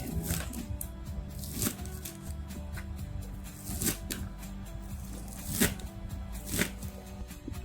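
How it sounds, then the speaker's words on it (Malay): Spring onions sliced with a knife on a cutting board while preparing a sardine and egg filling for fried spring rolls: irregular, crisp knife taps, close and fairly loud, over a steady low background hum, with no talking. "Kita nak hiris dulu lah daun bawang ni. Okey, jom kita hiris."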